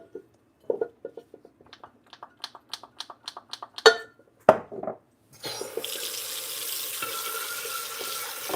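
Dishes being washed at a kitchen sink: a series of sharp clinks and clatters of crockery, then tap water gushes steadily and fairly loud for the last few seconds.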